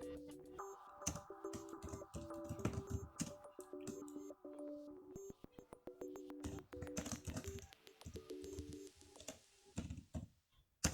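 Keys clatter on a computer keyboard while someone types in MS Word 2007, a faint, irregular run of quick taps and clicks with brief pauses, mixed with a soft ticking tone.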